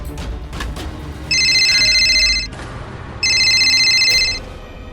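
A mobile phone rings with a bright electronic tone, two bursts each about a second long with a short gap between them, loud and clear over a quiet background.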